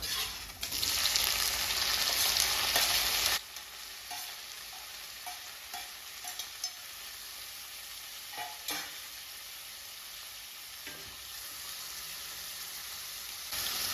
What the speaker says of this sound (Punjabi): ਹੁਣ ਇਸ ਦੇ ਵਿੱਚ ਪਾਵਾਂਗੇ ਟਮਾਟਰ ਤੇ ਹਰੀਆਂ ਮਿਰਚਾਂ